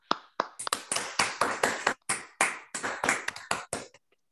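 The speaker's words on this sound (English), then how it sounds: "So maybe start a round of applause first and then the questions." Clapping closes an online mathematics talk, a single close set of hands clapping about a dozen times in an uneven rhythm before fading to silence.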